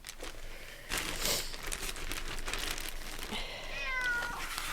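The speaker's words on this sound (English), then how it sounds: "Here, Studio Cat, go down" A studio cat gives a short meow with rising harmonic tones near the end, amid a busy room with rustling and crinkling noises during a podcast recording.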